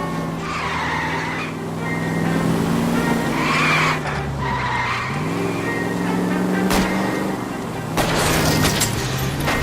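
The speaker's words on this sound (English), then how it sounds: "Spin him out, Cole. The road's wet" In the video game L.A. Noire, a car skids on a wet road during a chase, with tires squealing repeatedly over a loud engine roar and a crash-like burst, and voices speaking in between.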